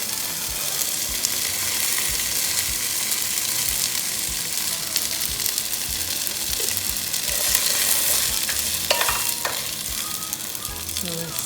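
Washed jasmine rice fries in hot oil in a pan while being stirred for chicken congee: a continuous close, loud sizzle with scraping stir sounds and a few sharper pops.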